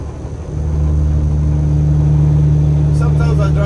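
A truck engine rumbles loud and close, climbing from idle into a sustained, heavy revving drone while gears are shifted, and a voice briefly joins near the end.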